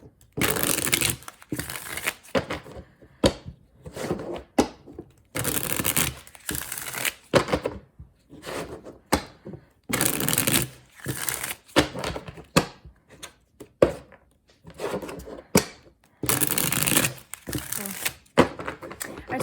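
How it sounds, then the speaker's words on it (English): A tarot deck is shuffled again and again, bursts of riffling, slapping card noise that come in irregular clusters with short pauses, close to the listener, while a voice talks softly between and under the shuffles. "Let me shuffle."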